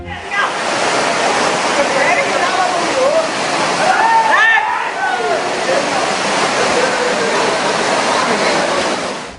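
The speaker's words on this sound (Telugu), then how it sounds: "రోడ్లన్నీ ఏరులై పారుతుంటే నడవడానికి ఇబ్బంది పడ్డారు ప్రజలు." Floodwater rushes along city roads in Hyderabad after heavy morning rain, a loud, continuous broadband roar of flowing water with no pauses.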